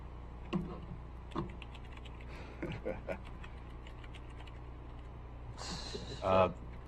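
Scattered clicks and short bursts of typing on a computer keyboard during a county board of commissioners meeting, fairly faint against room hum, ending in a louder clatter.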